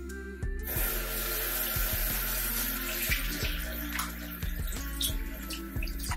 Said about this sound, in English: I'm actually going to take just a cloth and I'm just going to wet this.